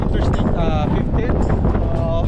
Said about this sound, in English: It's kind of windy right now here